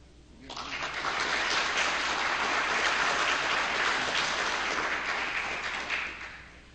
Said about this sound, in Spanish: Solicito un aplauso para él.